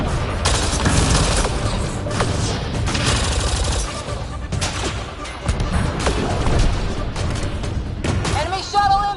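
Gunfire in Mass Effect: Andromeda, loud bursts of rapid shots and heavy impacts in a chaotic firefight, with voices calling out between volleys.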